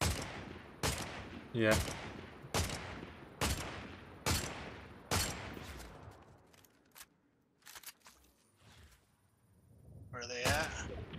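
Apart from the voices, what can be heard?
gunfire from the video game Fortnite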